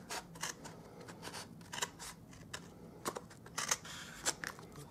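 Quiet, close craft scissor snips trim excess paper from a pillow box in scattered short cuts, some in quick pairs, with no voices.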